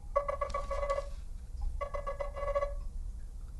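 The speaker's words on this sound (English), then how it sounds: "So that is one of your ringtones." Simple, clean ringtone from a Nothing Phone 2, a bright chiming melodic pattern in two phrases separated by a short pause, playing clearly with no talking over it.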